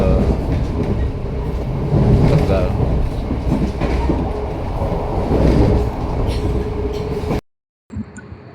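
The Argo Cirebon passenger train rolls steadily along the tracks with a loud rumble and rhythmic clatter, a voice speaking briefly, before the sound cuts off abruptly near the end.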